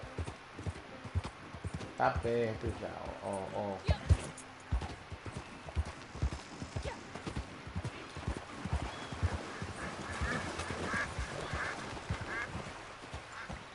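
Horse hooves clop in a quick, steady rhythm while riding in the video game Red Dead Redemption 2, continuous and fairly close, with someone talking intermittently over the gallop.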